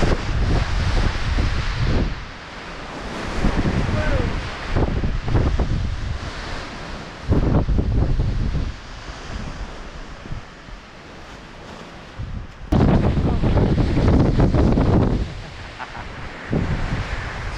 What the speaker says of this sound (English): Another windy summit